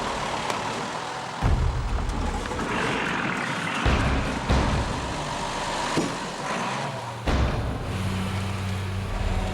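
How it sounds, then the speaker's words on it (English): Trucks labour along a muddy jungle road in Guyana, their engines a steady low rumble with occasional heavier surges and knocks, heard alone without talk. "The trucks head into the jungle."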